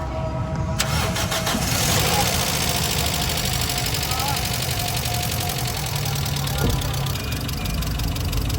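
A car with a freshly rebuilt engine cranks and catches, then settles into a steady idle with a persistent ticking, knocking noise. The engine sound is loud and close, with some talking over it.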